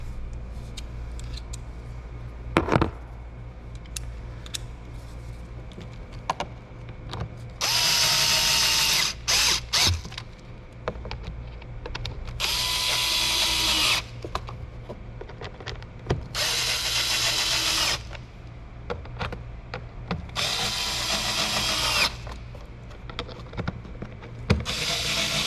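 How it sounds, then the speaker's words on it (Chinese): Long socket tightening a long screw back into place while swapping the engine air filter on a Volkswagen Golf Sportsvan TDI, heard as bursts of loud ratcheting and driving noise, four or five spells between quieter handling clatter. "先把这个比较长的这个螺丝把它固定回去"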